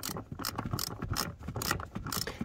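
A hand ratchet works a 10 mm hex bolt loose under a plastic cap on a Mercedes, several short bursts of fast clicking close by, fairly quiet, with no talk.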